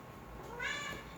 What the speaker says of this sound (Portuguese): Esse amiguinho aqui que fica o tempo todo miando nos vídeos